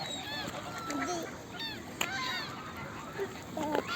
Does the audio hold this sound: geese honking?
yes